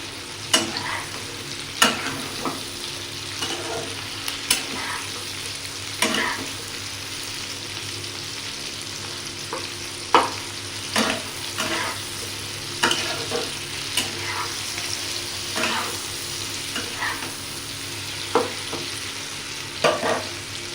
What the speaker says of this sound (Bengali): চিকেনগুলো দিয়ে একটু ভালো করে ভেজে নেব।